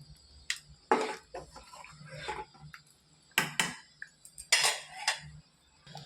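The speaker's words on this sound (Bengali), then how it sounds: "মাঝে মধ্যে খিচুড়িটা এমন নাড়িয়ে দিবে না হলে কি হয় নিচের দিকে বসে বসে যায় পুড়ে যেতে পারে" A spoon stirs vegetarian khichuri in a pot, making irregular metal scrapes and clinks against the pan in short bursts with quiet gaps between them, close by and without speech.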